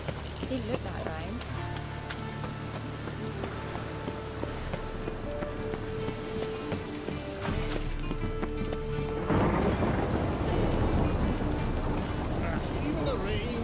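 Rain falls in the city of Novigrad in the video game The Witcher 3, a soft hiss that swells louder and denser toward the end, mixed with hoof-like clopping and ambient game sounds.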